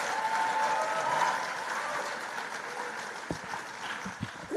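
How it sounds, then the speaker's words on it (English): A crowd at a Hope Global Forums 2024 session claps for the panel and moderator, a broad, full applause that swells early and then gradually thins and tapers toward the end. "Let's give them all a big round of applause."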